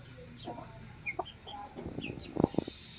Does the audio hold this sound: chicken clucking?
yes